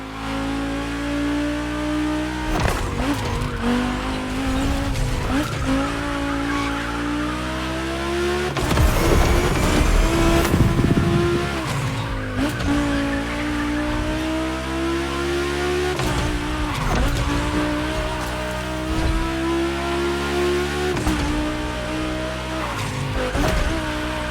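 Volkswagen cars racing on a gymkhana track in the video game The Crew Motorfest, with loud engines revving up and down continuously and a harsh burst of tire squeal or skidding partway through.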